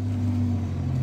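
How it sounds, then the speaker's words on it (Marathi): A vehicle engine idles and runs steadily with a low, even hum close by on a trekking trip, no talk over it. "गाडी आपली स्टार्ट झाली आता."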